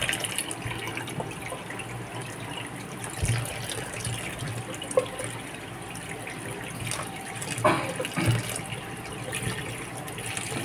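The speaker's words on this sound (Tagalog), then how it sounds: "Hugasan natin maigi." Tap water runs steadily into a sink while something large is washed thoroughly, a continuous gushing wash with a few brief splashes and knocks.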